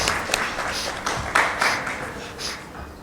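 Audience applause for conference panelists on stage at a mementos presentation, scattered clapping with a few louder individual claps, moderate level, brief and uneven.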